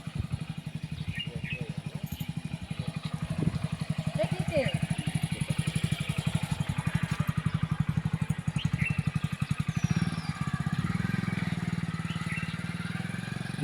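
A motorcycle engine runs at the grounds of the Keslapur Nagoba temple in Adilabad, Telangana. It gives a steady, rapid throbbing putter at moderate volume that carries on without a break throughout.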